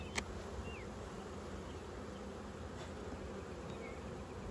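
Honey bees buzz steadily around an open beehive being worked, a continuous faint droning hum with no talking.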